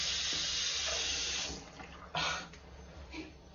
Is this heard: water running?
yes